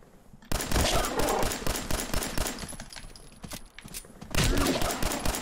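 Gunshots in the video game Fallout 4, dense rapid bursts of loud close automatic fire, starting abruptly, dipping briefly, then surging again.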